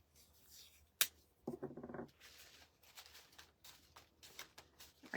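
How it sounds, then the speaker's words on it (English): Strip of adhesive tape pulled and torn off at a tabletop craft setup, a sharp crack followed by a short rasping peel, then quiet crinkly handling noises; close and fairly soft, no talking. "Take a little piece of tape."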